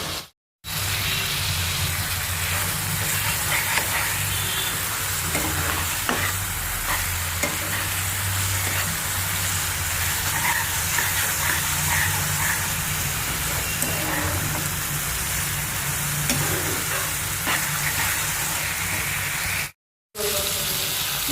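Masala sizzles steadily as it is stirred and fried in a pan, a continuous close frying hiss with scraping stirs running throughout, briefly cut off near the start and end.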